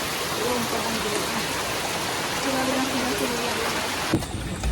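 Sudden rain falling outdoors over drying rice grain, a dense steady hiss of rainfall that carries on evenly, with faint voices under it and a brief knock near the end.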